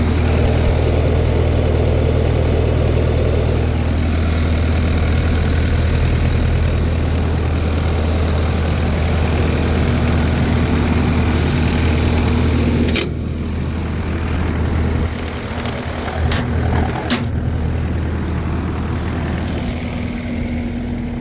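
The Kubota diesel engine of a 2014 Takeuchi TL12 tracked skid steer idles steadily and loudly close by, its rumble shifting partway through, with a couple of sharp clicks near the end.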